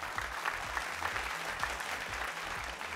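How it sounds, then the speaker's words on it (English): A studio audience at a televised school quiz pentathlon applauds in a steady, moderately loud round of clapping, with a low rhythmic music bed pulsing underneath. "Let's give them a round of applause anyway."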